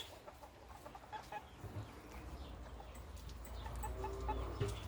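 Chickens clucking softly on a farm while waiting for milk, faint scattered clucks and calls over low background rumble, with no talking.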